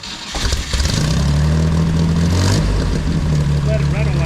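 A 1969 Jeep CJ5 Dauntless engine catches and settles into a loud, steady idle close by, its low rumble running unbroken to the end.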